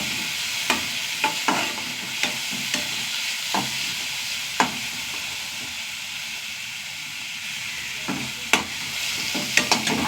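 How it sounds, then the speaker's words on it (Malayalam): Shallots and curry leaves sizzle and hiss steadily in hot oil in a pan, with a spoon scraping and stirring in irregular clacks, close and fairly loud, no voices. "ചെറിയുള്ളി കറിവേപ്പില ഇട്ട് കൊടുക്കുക."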